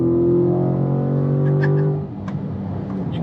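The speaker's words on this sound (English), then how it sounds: "just listen to that V8." A C8 Corvette V8 engine revs loudly and close, a deep steady rumble that holds and then drops away to a lower idle partway through.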